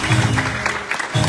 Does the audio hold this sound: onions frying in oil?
no